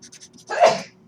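A single loud, close sneeze bursts out in a lecture setting, preceded by a few faint breathy sounds and trailing off quickly.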